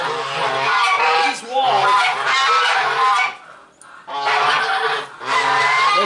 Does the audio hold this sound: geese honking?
yes